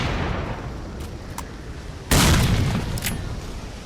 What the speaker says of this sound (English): Here, catch a grenade!